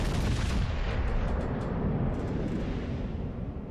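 Naval gunfire from a battleship in World of Warships Legends video game, a heavy booming salvo rolling into a long, dense rumble that slowly fades.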